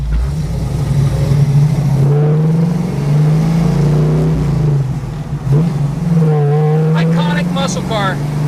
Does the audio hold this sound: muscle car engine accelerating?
yes